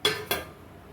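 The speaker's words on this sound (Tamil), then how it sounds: "பட்டாணி ஆட் பண்ணியாச்சு." Two quick metallic clinks a fraction of a second apart, as green peas go into a pot for a village-style kurma, crisp and close, then quiet.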